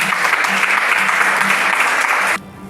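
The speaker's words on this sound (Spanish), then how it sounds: "Denle un fuerte aplauso al Señor." A church congregation at Peniel Church Cali gives loud, sustained applause with clapping and some cheering, then it cuts off abruptly near the end.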